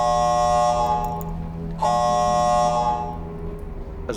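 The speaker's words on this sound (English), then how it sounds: "As I was saying, the major incident alarm has sounded." A major incident alarm in a security service office blares loudly as a sustained harmonic tone in two long blasts, with a brief break between them and no voices over it.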